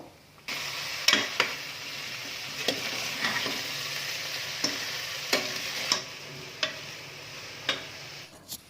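Salt-soaked, drained jackfruit pieces go into a pan and are stirred, giving a steady low sizzle with sharp, spaced clacks of a spatula against the pan about once a second.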